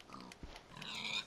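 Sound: pig grunting in the Minecraft video game

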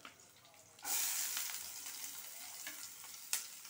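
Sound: chopped onions frying in oil

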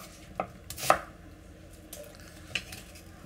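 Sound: vegetables thrown into the bottom of a roasting pan

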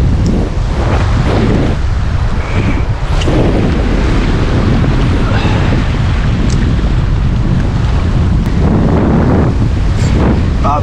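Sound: strong wind on a rocky ocean shore

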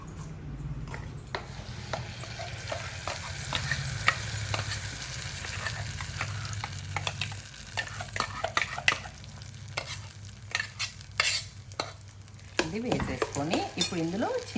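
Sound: frying peanut paste in tempering

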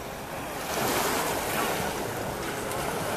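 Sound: sea waves on Ko Rin island, Thailand

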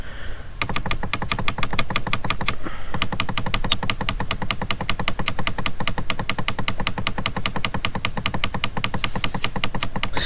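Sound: rapid mouse clicking while playing Minecraft Splegg video game

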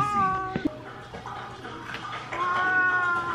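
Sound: cat meowing

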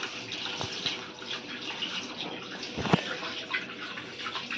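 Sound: washing rice under running water

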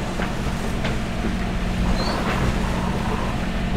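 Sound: sailboat motoring on engine in headwind and choppy sea

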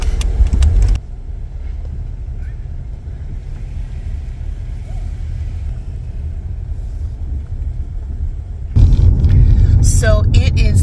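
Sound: Honda Element cars heading out to drive

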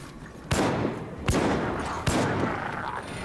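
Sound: Rattling Gunner firing, from the video game Vermintide

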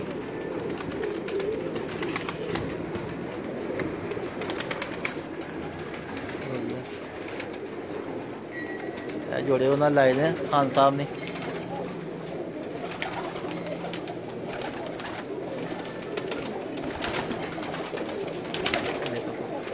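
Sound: pigeons cooing in a pigeon loft

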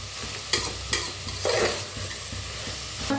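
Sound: stir-frying sprouted moth bean masala rice

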